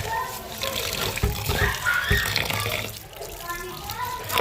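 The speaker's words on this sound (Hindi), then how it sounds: "तो चावलों को अब धो लेते हैं अच्छे तरीके से, इनको धो लें।" Rice is washed in running water for khichdi, a continuous splashing and sloshing of water from a tap into a vessel, with a voice talking over it.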